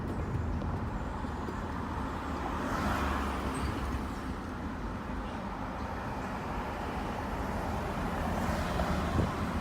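Car driving, heard from inside the cabin: steady low road rumble and engine hum with wind noise, constant and unbroken throughout, no voices.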